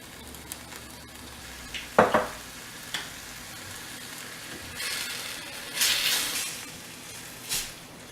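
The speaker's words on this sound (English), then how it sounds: "And I'm gonna add my pasta sauce." Canned pasta sauce hits a hot pan with sharp sizzling bursts, followed by intermittent stirring and spoon scrapes, close and fairly clear, with no talking.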